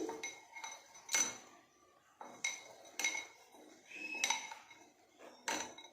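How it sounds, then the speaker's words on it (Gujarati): A spoon stirring black sesame kachariyu mixed with almond and cashew pieces and melon seeds in a bowl: a handful of distinct metallic clinks and scrapes in an irregular rhythm, close and fairly quiet, with short pauses between strokes. "હવે આપણે તેની અંદર બદામના ટુકડા નાખીશું કાજુના ટુકડા નાખીશું મગજતરીના બી નાખી દઈશું અને બધું બરાબર મિક્સ કરી લઈશું"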